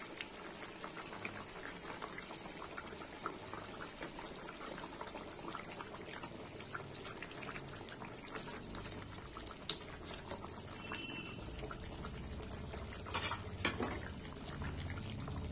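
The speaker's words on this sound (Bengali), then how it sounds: "ঝোল ফুটে গেছে, এবার আমি মাছগুলো দিয়ে দেবো" Rohu fish kalia broth bubbling in a pan, a steady, fairly quiet simmering hiss with soft bubbling and a few brief clinks near the end, no one talking.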